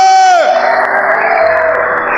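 A church congregation cheering and shouting in praise, a loud sustained roar of many voices rising from a preacher's drawn-out cry, with whoops and scattered clapping underneath.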